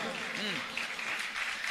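An audience at a Hindi comedy poetry show claps continuously in a dense steady wash, moderately distant, while a voice speaks over it.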